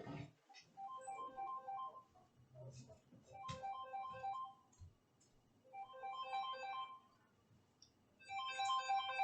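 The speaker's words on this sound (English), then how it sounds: "And there goes my phone ringing." A phone ringtone plays a repeating melodic tune in several separate bursts, moderately loud indoors, with faint background noise between rings.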